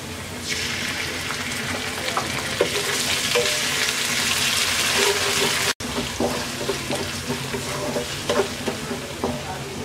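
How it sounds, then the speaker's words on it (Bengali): Chopped garlic and onion sizzle steadily in a hot pan for a chola bhuna chickpea dish, with close stirring scrapes throughout and a brief cut in sound midway; no one talks. "রসুন আর পেঁয়াজটাকে হালকা ভেজে নেব"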